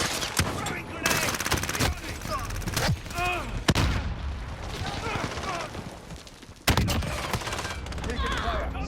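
Dense gunfire from the Call of Duty: Modern Warfare video game, with rapid automatic bursts and single shots crackling continuously, mixed with explosions and in-game voices calling out.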